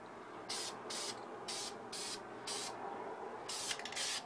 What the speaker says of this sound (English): We're about to use some more Krylon Fusion Red to spray over it.